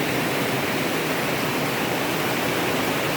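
Water flowing into a flooded rice paddy field, a loud, steady, broadband rush with no breaks and no voices.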